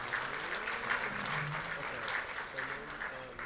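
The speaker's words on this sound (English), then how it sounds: "Can we give them all a round of applause?" A meeting audience gives a round of applause, a soft steady patter of clapping heard at a distance, with voices murmuring underneath.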